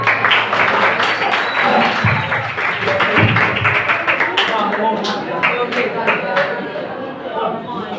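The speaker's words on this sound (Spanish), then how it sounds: "Aplausos para él." Audience applause at a talk, a dense steady patter of many hands clapping close and loud for about eight seconds, with some crowd voices and cheering mixed in beneath.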